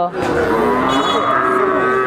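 A single drawn-out, nasal moo from a one-year-old native heifer calf, close and loud, holding for about two seconds with a wavering pitch.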